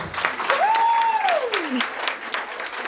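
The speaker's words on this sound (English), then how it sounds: "let's welcome Hannah with a warm round of applause" An audience applauds to welcome a speaker, Hannah, at a talk on food and shame at the table. Scattered claps run throughout the short stretch, and a rising-then-falling whoop cuts through them near the start.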